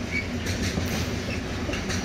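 A freight train with cargo locomotives rolls past on a railway line at Bischofsheim, Germany, a steady close rumble of wheels on track with rhythmic clickety-clack from the wagons.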